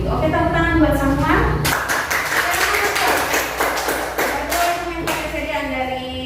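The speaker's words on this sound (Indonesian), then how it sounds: "tepuk tangan buat semua" A university class claps for the students, a burst of tapping hands in the middle with a speaking voice over it before and after.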